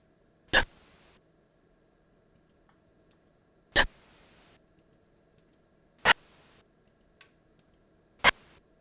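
Four separate breath sound samples from the Platinum Tracks expansion board on a Roland XV5080 synthesizer, each a short, airy, hissing exhale, evenly spaced apart with quiet gaps between them and no talking.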